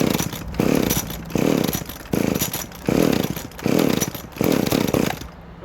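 A ported Shindaiwa 390sx chainsaw repeatedly revs in short bursts, about six loud, close roaring pulls separated by brief drops toward idle, then falls quiet at the end.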